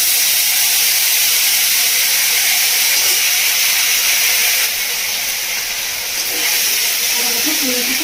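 Ginger paste frying in hot oil over a spice tempering, for a village-style prawn and moong dal dish: a loud, steady hiss and sizzle throughout, dipping briefly in the middle.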